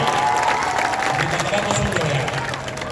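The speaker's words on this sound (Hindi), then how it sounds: "तब ताली बजाने का टाइम आ गया" Audience applause and clapping at a Jan Swaraj Party political rally with a politician, a steady crowd clatter running throughout with voices mixed in underneath.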